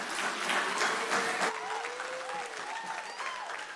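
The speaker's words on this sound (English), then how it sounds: "Please hold on to your applause." Applause from attendees at a Half Moon Bay city council meeting, a dense wash of clapping in the first second and a half, then thinning under a speaking voice.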